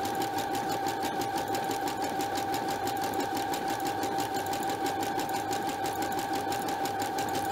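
A sewing machine stitching an automatic buttonhole, running continuously at an even, rapid rhythm with a steady motor whine throughout.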